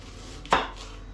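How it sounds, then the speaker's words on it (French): A single crisp knife chop through an onion on a cutting board, one sharp close thud-crunch standing alone in quiet room tone. "on va couper l'oignon"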